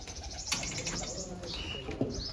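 Pigeons coo softly at close range, with a few brief chirps and a short flutter of wings among the low calls.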